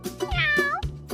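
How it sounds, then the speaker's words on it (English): A tabby cat meows in a few drawn-out, rising and falling calls, close and clear with nothing else around it. "tabby cat"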